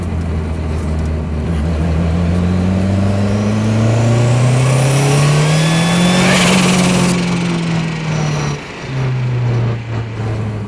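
A 1993 Ford Escort RS Cosworth engine revs hard under 1.8 bar of high boost, its loud, steady drone climbing and falling in pitch with a turbo whistle over the top, then briefly dropping before holding again.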